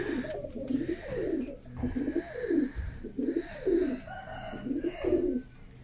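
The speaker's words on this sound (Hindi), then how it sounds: "कबूतर चेक कराने उपर एक जोड़ा बैठा होया जनाब" Pigeons cooing up close in a rhythmic series of repeated low, rolling coos, several calls in quick succession with no talk over them.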